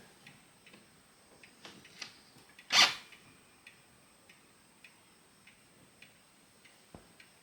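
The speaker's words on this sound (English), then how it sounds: "clock is clearly out of beat" A hanging pendulum clock ticks faintly and unevenly, its ticks falling out of beat, with one louder rustling scrape partway through in an otherwise quiet room.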